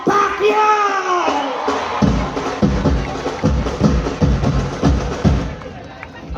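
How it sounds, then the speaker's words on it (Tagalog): A huge rally crowd roars and cheers loudly for Senator Manny Pacquiao, a dense, sustained wall of voices with rhythmic surges and chant-like pulses building after a shouted announcement. "Isang malakas na sigawan para kay Senator Manny Pacquiao"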